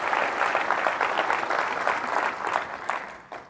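Audience at a developer conference applauding after a successful software demo, a dense, steady wash of clapping that holds strongly, then thins and fades toward the end with no talk over it.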